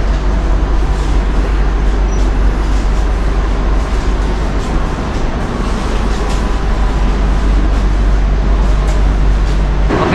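Steady loud rumble of a train standing at a station platform beside its carriage, a continuous low hum and hiss with no clear voices, on an economy-class Jakarta to Semarang service.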